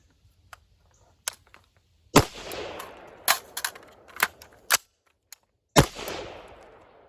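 Gunfire during one-reload drills wearing a battle belt: about six sharp, loud shots spaced irregularly across the clip, with quieter clicks and handling noises between them and echoing tails after each shot.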